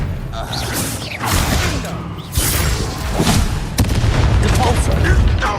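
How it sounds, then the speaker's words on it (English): A spell cast in a Hogwarts Legacy wizard duel lands among rumbling booms and thuds, layered over continuous game effects and mixed with voices, loud and dense throughout. "Expelliarmus!"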